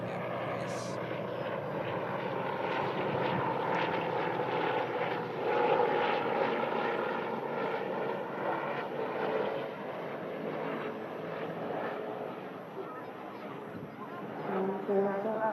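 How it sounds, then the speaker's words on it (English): Air ambulance helicopter passing over a runway visitor park, heard as a steady loud rotor and engine roar that swells slightly and holds throughout, with outdoor background noise. "let's see if we can bring you a quick shot of this heli going over the top of the runway visitor park here"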